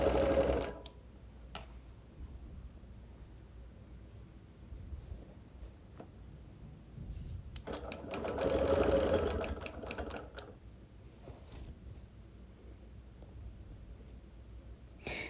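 A sewing machine quilting busy-print fabric runs in two bursts, near the start and again midway, with soft clicks and handling noises between them and no voices.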